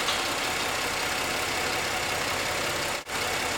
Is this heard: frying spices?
no